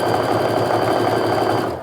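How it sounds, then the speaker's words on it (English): A domestic sewing machine runs steadily, stitching a quarter-inch seam down a diamond quilt top, with a continuous close motor whir and rapid needle hum for almost two seconds before easing slightly at the end. "Now I'm just going to sew that 1/4 inch seam going all the way down."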